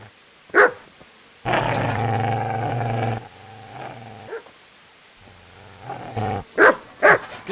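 A dog in Kingdom Come: Deliverance lets out a sharp bark, then a long, deep growl, followed by more snarls and a burst of quick barks, loud and close.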